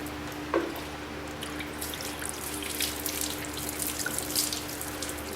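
Running water from a tap rinses off freshly done bathroom work in a shipping container home, a steady broadband wash with a few drips, close and alone without talk.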